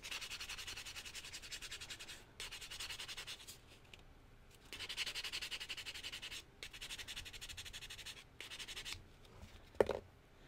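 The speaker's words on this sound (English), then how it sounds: "I'm going to take my vintage buffing block and buff this guy." Vintage buffing block rubbing back and forth over a piece of metal jewelry, close and steady, in several bursts of dry scraping strokes separated by short pauses, with a brief sharp knock near the end.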